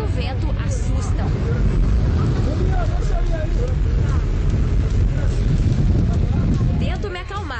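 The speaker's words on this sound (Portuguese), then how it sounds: "Na hora de saltar, a visão e o barulho absurdo do vento assustam." Strong wind rushing loudly during a skydiving jump from a plane, a dense roaring buffet close to the microphone, with voices talking under it.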